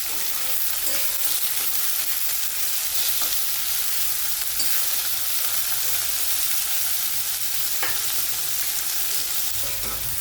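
Mixed vegetables, including cowpeas, stir-fried in a pan for a spicy hotel-style mix veg, a continuous loud sizzle with faint utensil scrapes and no voices.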